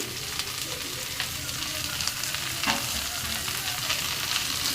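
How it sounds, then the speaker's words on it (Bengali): Carrot, green chili and papaya with yard-long beans frying lightly in a pan for a Chinese-style vegetable dish, a steady close sizzle with occasional stirring scrapes and no talk. "হালকা একটু ভেজে নেব"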